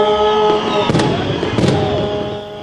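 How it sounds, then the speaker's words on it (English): A New Year's fireworks display in Scranton gives a couple of distant booming bursts and crackle, heard over a steady tonal hum and crowd noise at the scene. "They lit that up, and then they set off the fireworks."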